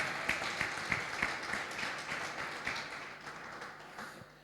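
Scattered clapping from a church congregation, soft and somewhat distant, with a few sharp claps standing out over a diffuse patter that slowly thins.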